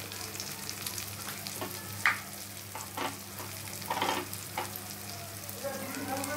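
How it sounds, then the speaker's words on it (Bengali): Tomato sautéing in a pan with salt and turmeric for a chicken curry, a steady close sizzle broken by a few sharp spatula scrapes and stirs. "যতক্ষণ না মজে যাচ্ছে ততক্ষণ একটু কষিয়ে নেব"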